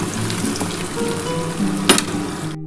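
Taro and potato pieces fry in oil in a pan, a constant close crackling sizzle with light clatter and one brief sharper scrape, alone with no voices.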